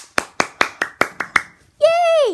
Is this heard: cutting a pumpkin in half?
no